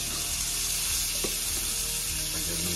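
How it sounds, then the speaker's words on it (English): Fiddlehead ferns sauté in a pan of oil and butter, giving a steady, close, fairly loud sizzle that runs without a break, with faint stirring and no voices. "I've been cooking these for sauteing for a couple of minutes now."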